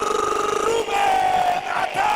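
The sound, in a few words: Maccabi Haifa football crowd cheering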